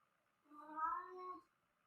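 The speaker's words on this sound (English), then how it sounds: "He literally ran into the room at top speed and started meowing as loud as possible." A house cat gives a single drawn-out meow, rising and then falling, close and clear against a quiet background, with nothing else audible.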